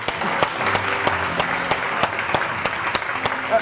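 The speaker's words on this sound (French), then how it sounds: "On les applaudit, s'il vous plaît." Audience applause for regional dictation contest winners from Côte d'Ivoire, a steady patter of many hands with a few sharper claps standing out, moderately loud throughout.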